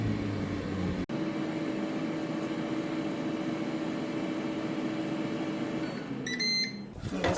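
An air fryer preheating hums steadily with a low fan drone and a faint tonal whir, ending with a short series of electronic beeps near the close.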